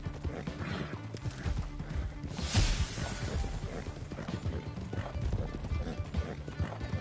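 Horse hooves clip-clop at a steady gallop in the Red Dead video game, a continuous rhythmic pounding with a brief louder crash partway through and a whinny, close and moderately loud without clear talk.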